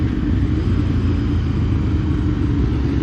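A 2020 Aprilia RSV4 1100 Factory motorcycle rides on track at Cadwell Park, its engine a steady, loud, close rumble that holds an even drone throughout with no talk over it.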